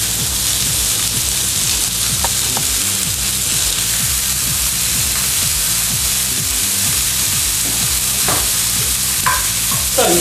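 Bacon fries in a pan over very high heat, a loud, dense, continuous sizzle with faint scraping of stirring and a few brief clinks, close up and without speech.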